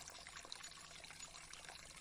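A small river trickles along a path, a steady soft babble of flowing water with no voices.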